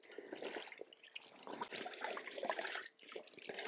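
Sheepskin fleece pushed under and soaked in a tub of water, a continuous close sloshing and trickling wash of liquid with no voices.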